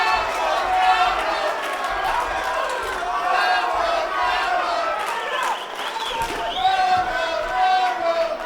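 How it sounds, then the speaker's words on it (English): A boxing crowd cheering steadily for hometown fighter Angel Ramos, a loud, dense roar of voices and shouts that swells and holds throughout, with a commentator talking over it. "As the crowd now trying to pump up Angel Ramos here, hometown kid"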